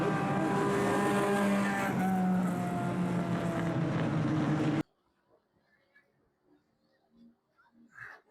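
Loud, droning engine roar from race cars at a Tri-County Speedway night championship race, sustained for several seconds before cutting off abruptly to near silence broken by a few faint, scattered sounds.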